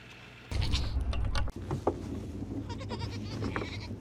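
Several goats bleat outdoors in loud, wavering calls, with a burst of clatter and movement noise and a steady low hum behind them, no voices.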